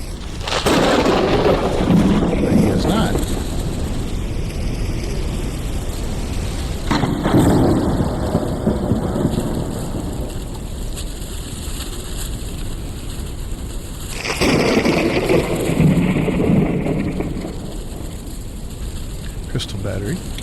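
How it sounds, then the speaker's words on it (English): A storm rolls through in the video game Forever Skies, with loud rumbling thunder swells and steady wind and rain noise. Someone talks over parts of it. "Hopefully the storm will be over."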